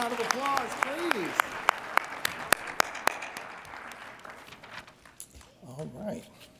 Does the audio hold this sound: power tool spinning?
no